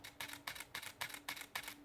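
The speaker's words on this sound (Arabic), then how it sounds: "يعني هو خد كذا صورة ورا بعض" A digital SLR camera shutter fires in continuous shooting drive mode, six quick evenly spaced clicks in a burst, close and fairly quiet, with no talking.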